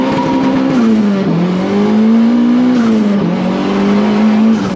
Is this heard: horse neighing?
no